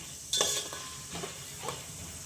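Grain frying and stirring in a pan on the stove: a soft sizzle runs throughout, with a few louder scrapes and stirs, the first near the start and two quieter ones later, and no talking.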